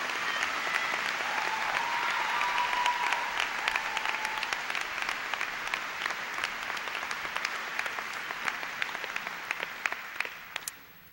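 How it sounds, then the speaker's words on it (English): A commencement audience at the College of Saint Benedict gives a sustained round of applause, a dense wash of clapping that fills the room and tapers off gradually toward the end. "Let's welcome Katie with a round of applause."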